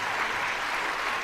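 Dense, steady applause from the audience at a stage show during the AMMA Kudumba Sangamam 2025 family gathering, loud and unbroken throughout without any talk over it.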